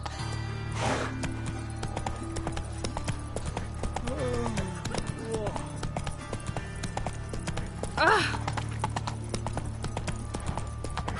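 Hooves of Roach, a horse in a video game, clip-clop in a steady trotting rhythm close by throughout, with a couple of whinnies and faint game sounds mixed in.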